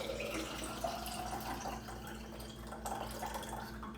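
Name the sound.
liquid being poured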